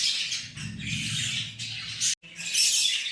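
Budgerigars chirp and twitter close by in a quick, busy run of bright, high chatter, broken by a brief pause before resuming.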